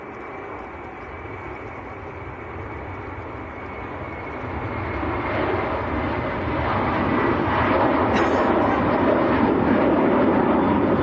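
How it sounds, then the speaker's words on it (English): An Aer Lingus Airbus A330 takes off at a busy airport, its engines a broad steady roar that slowly swells louder over several seconds, with no talking. "And next to go is the Aer Lingus A330."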